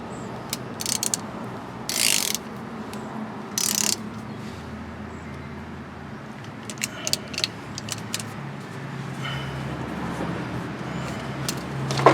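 Ratchet wrench cracking loose a brake bleeder screw with a copper washer, giving scattered short metallic clicks and two louder bursts of ratcheting over a steady low outdoor background, no talking.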